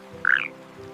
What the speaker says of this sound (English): frog calls form part of the rainforest's living soundtrack,